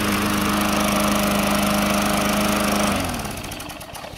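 A Craftsman 6.25hp push lawn mower, a curbside find with low compression, runs with a loud, steady small-engine drone for about three seconds, then cuts back and winds down.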